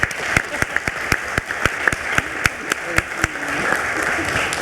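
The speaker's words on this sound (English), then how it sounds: "I think that deserves a round of applause" Scattered applause at a board of regents meeting, with distinct individual claps ringing out in an irregular rhythm over a soft bed of wider clapping, fairly close and moderate in level.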